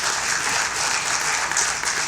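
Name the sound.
applause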